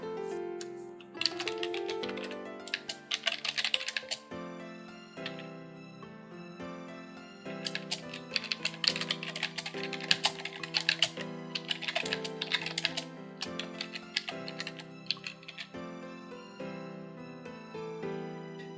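Keys on a computer keyboard are tapped in irregular bursts of quick clicks while a survey question is entered, with a tonal musical backdrop running underneath.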